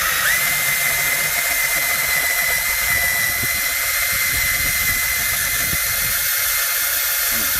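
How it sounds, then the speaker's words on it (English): A power drill bores holes in the body of a BMW 528i E39 to fit facelift tail lights, giving a steady, loud, continuous whine that holds close and unbroken throughout with no pauses. "Okay, both holes are drilled."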